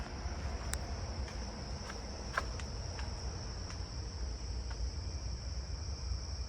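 Tree crickets chirp faintly in a nighttime neighbourhood backyard, a steady high thin trill running under a low background rumble, with a few sharp brief clicks scattered throughout.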